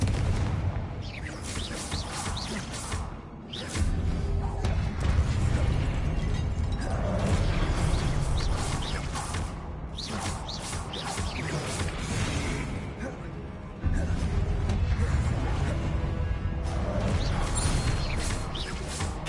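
Repeated Confringo blasting curses in Hogwarts Legacy, a dense run of loud explosive bursts and crashes one after another with brief dips, all close and forceful, no talk over them.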